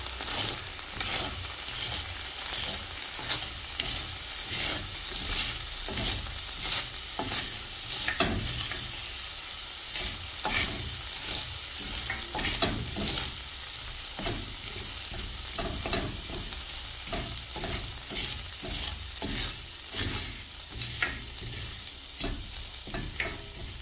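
A cocoa pod potash soap mixture sizzles and crackles steadily while being stirred, a dense continuous frying hiss with scraping strokes throughout and no voices.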